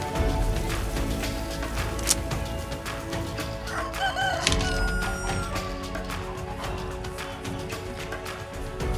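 A rooster crows over a steady farmyard din on a South African farm with chickens and alpacas, with scattered clucks and bird calls in the background; fairly loud and continuous throughout.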